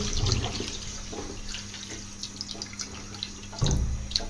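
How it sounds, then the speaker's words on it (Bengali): Water poured into a kadai holding a cup of sugar to make syrup for potato kalojam sweets, a steady close splashing pour lasting several seconds with a louder burst near the end, no talking. "আর পরিমাণ মতো পানি দিয়ে দিচ্ছি"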